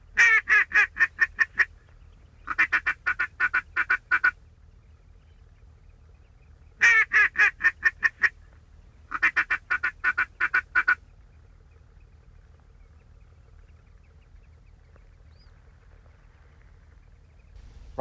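Teal ducks quacking in rapid, rhythmic bursts, four clustered runs of calls separated by quiet pauses, fairly close and clear, in South Texas.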